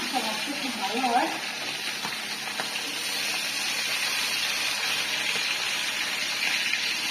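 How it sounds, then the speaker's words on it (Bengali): Fish frying in hot oil in a village kitchen: a continuous, close, hissing sizzle throughout, with a voice talking briefly at the start. "মাছটা ভাজতে খুব ভালো হয়"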